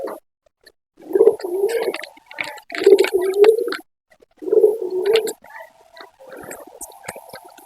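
Pigeons cooing in low, throaty, rolling bursts while eating moringa leaves, several phrases separated by pauses, close and fairly loud.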